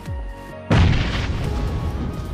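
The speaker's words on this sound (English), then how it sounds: "throw a grenade only if you think there would be an enemy" A grenade exploding in PUBG Mobile: a sudden loud, close boom with a heavy low-end punch that decays into a rumbling, hissing tail, preceded by quieter game ambience.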